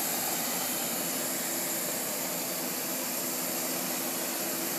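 A gas flame roars against fabric samples hung with half-pound weights during a flame test, producing one steady, loud, unbroken rushing roar from start to finish.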